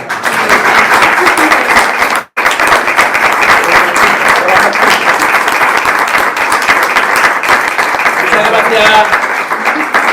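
Loud, dense audience applause for the artists at a creative writing workshop, continuous clapping that breaks off abruptly for a moment before resuming, with faint voices mixed in near the end.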